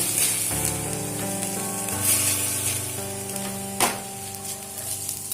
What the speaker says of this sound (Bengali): গ্যাসের ফ্লেমটা মিডিয়ামে রেখে নাড়াচাড়া করে এটাকে খুব ভালো করে ফ্রাই করে নেব